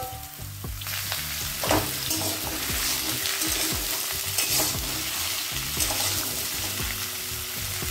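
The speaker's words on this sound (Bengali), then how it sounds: "পেঁয়াজটা 1 মিনিট ভেজে নিয়েছি। এবার দিয়ে দেবো পেঁপে আলুটা।" Papaya and potato pieces going into onion frying in a little oil, a continuous close sizzle with repeated scraping and clattering of a spoon stirring the pan, fairly loud with no talk.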